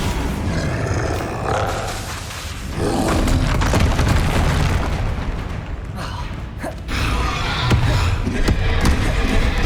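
Spell blasts and explosions burst from combat in the video game Hogwarts Legacy, with loud booms and rumbling impacts layered into dense, continuous battle noise while a voice calls out spell names over it.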